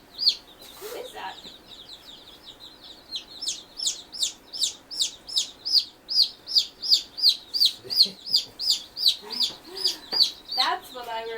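Newly arrived baby chicks peep loudly in a fast, steady series of sharp, high calls close by, with a brief human voice near the start.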